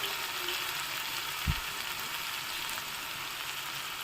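Fenugreek greens, washed and chopped, frying in a pan with dal, giving a steady soft sizzle throughout with one brief low bump from stirring or handling, close and fairly quiet with no talk.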